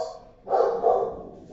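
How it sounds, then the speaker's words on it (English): A dog barks twice in quick succession in the background, moderately loud, with brief speech just before. "Sorry about the dog there."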